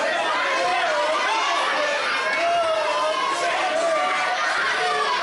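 Wrestling crowd at a PPW PowerSlam TV show in Tabor jeering Kyle Sebastian as he slowly returns to the ring, a steady loud wash of chatter, shouts and cheers throughout.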